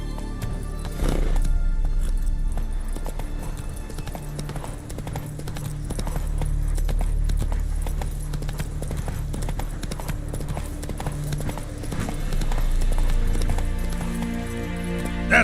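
Galloping hooves of the horse Roach in The Witcher 3 pound in a fast, steady clip-clop with a brief whinny, all over a dense game soundscape of ambient rumble and music.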